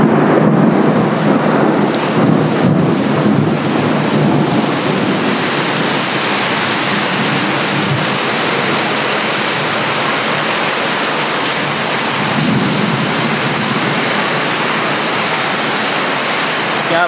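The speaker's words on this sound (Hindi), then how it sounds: "और यहीं गिर रहा है पानी।" Heavy rain pours steadily with rolling thunder, a dense loud wash of downpour throughout, with a louder rumble early on and rain drumming on surfaces.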